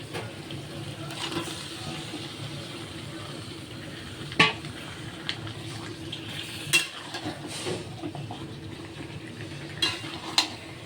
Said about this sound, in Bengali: মশলাটা প্রায় কষে এসছে। এবার মাংসটা দিয়ে দেবো।